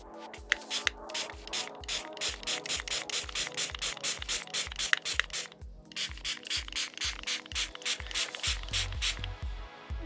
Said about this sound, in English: I'm going to do the thing again where I'm going to spray them down